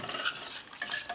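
Gravy mix being stirred in a pan, a brief run of soft scraping swishes with light metallic clicks, close and moderately quiet.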